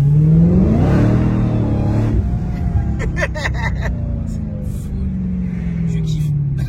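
A car's engine rises in pitch as it accelerates, loud and close, with a rumbling motor note and some clicks and knocks over it; people talk alongside.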